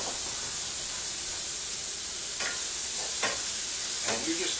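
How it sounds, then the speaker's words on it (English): Jalapenos and onions with lean pulled pork sizzle in olive oil in a pan, a steady bright frying hiss with a few scraping stirs of a utensil near the end, close and continuous. "You're going to just basically saute these."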